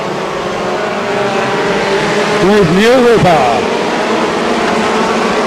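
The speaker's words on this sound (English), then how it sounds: "the 824 car giving a nice backfire there as he toes off going into those bends" A BriSCA F2 stock car racing at the 1998 World Championship Final backfires as it heads into the bends, with sharp engine pops and sweeping revs standing out over a steady roar of racing cars while a commentator talks.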